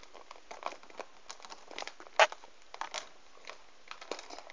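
A pouch of fake whipped cream is kneaded by hand, giving soft, quiet crinkling and squishing rustles in an irregular rhythm, close up and without talking, with one slightly sharper crackle midway.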